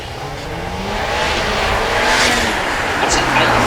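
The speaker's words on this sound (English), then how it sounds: "That's an 845 SEMG, 2 litre, turbocharged, inline 4 with 480 brake horsepower." A 2-litre turbocharged inline-four 845 SEMG car drives past at a supercar event, a loud, broad engine roar that builds and holds over the crowd's background.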